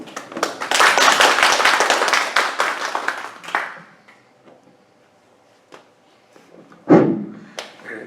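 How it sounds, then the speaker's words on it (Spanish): An audience at a commemorative lecture on the US Declaration of Independence applauds a university history professor, a burst of close clapping for about three and a half seconds that fades, followed by quiet with scattered knocks. "Fuerte aplauso para él."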